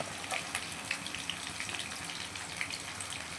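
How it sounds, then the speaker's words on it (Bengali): Potatoes fry in hot oil with a faint, continuous hiss and scattered tiny crackles. The sound is low in level, and no one speaks. "আগে আলুটা লাল লাল করে ভেজে নেবো।"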